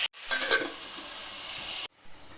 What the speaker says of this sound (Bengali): আর একবার ভালো করে নেড়ে দেবো।